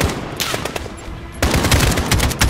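AK rifle fire in Call of Duty: Modern Warfare, with sparse single shots at first, then a loud sustained automatic burst rattling on to the end.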